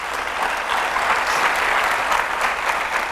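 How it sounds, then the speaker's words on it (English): An audience at an awards event gives sustained applause, a dense, even wash of many hands clapping with no break for the whole stretch. "So a big applause for Steve for doing that"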